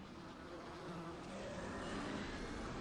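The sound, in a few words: swarm of bees in the video game Dead Rising 3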